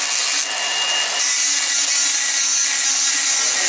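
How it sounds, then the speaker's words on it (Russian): A jeweler polishes the top of a gold ring on a polishing tool, giving a steady, bright whirring rub with a faint low hum, continuous and close for the whole stretch. "Теперь полирует сверху."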